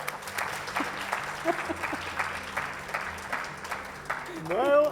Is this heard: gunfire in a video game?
no